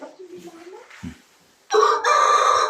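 Purebred fighting roosters crow loudly and close by, one long strained crow following some softer clucks and calls.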